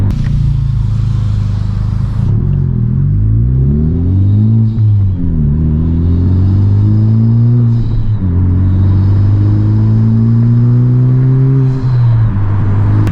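A loud, deep aftermarket MA Performance track exhaust on a 2021 Honda Civic Type R rumbles at idle close by, with a few gentle revs rising and falling in pitch.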